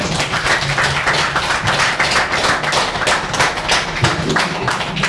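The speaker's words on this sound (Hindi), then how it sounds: "इनके लिए तालियां" Applause and clapping for a performer at a Jal Jeevan Mission training programme, a dense, steady patter of many hands continuing throughout.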